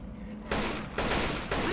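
Gunfire in the zombie co-op shooter Left 4 Dead 2, loud, dense bursts of rapid shots in three back-to-back volleys with no gaps between them.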